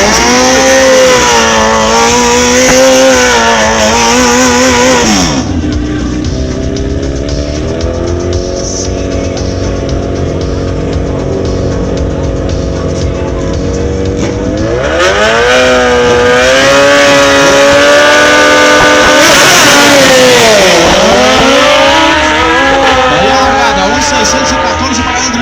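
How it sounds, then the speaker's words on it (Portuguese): Suzuki Hayabusa motorcycles at a drag racing event, engines revving loud and continuous with rising and falling pitch sweeps as they launch and accelerate, under a track announcer's voice. "de volta com a Hayabusa na pista do lado esquerdo"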